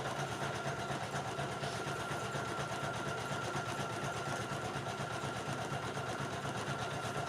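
An embroidery machine stitches a towel with a steady, fast mechanical hum and rapid needle chatter that holds evenly throughout at moderate volume, with no voices over it.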